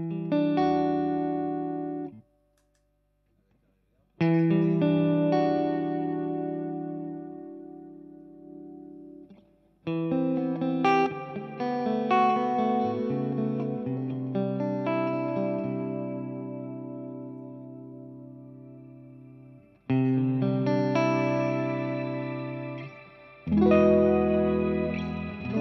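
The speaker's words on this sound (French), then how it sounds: "j'ai fait un mélange de shimmer et de reverb" An electric guitar plays through shimmer and reverb pedals, with chords and notes in separate phrases. Each one blooms into long, washy, sustained tails that ring out and overlap, and there are short silences between phrases.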